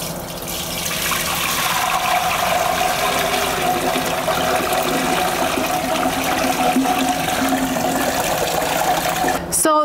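A heavy load of liquid JADAM sulfur is poured steadily through a paint straining bag, making a continuous loud rushing, splashing pour that lasts nearly ten seconds before it stops abruptly at the end.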